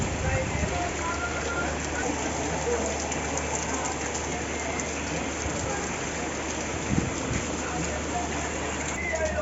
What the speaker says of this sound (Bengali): আকাশটা একদম মেঘলা আর প্রচুর পরিমাণ বৃষ্টি হচ্ছে